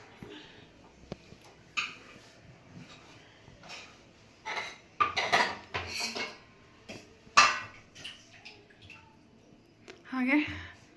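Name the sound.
knife chopping green chillies for vegetable kurma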